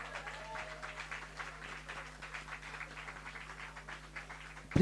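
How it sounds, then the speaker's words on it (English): Audience applause at a sales workshop and expo, a steady wash of many hands clapping at moderate distance that fills the room evenly, with a low steady hum underneath and a brief louder bump at the very end. "One more time, a round of applause for Mona Lisa."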